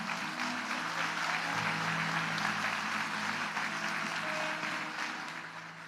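Church congregation applauding during an evening service, a steady broadband wash of clapping sustained throughout and tapering slightly at the end.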